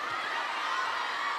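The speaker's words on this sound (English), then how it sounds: "The crowd screaming." Continuous roar of a crowd at a men's singles quarterfinal at the 2025 Doha World Table Tennis Championships, a dense broadband wash of screaming and cheering, steady and loud throughout with no distinct voices standing out.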